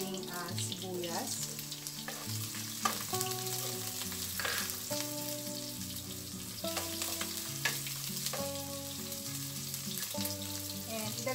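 Onions sautéing in a pan with garlic give a quiet, continuous sizzle with light crackles and a few stirring scrapes, steady throughout with no talking.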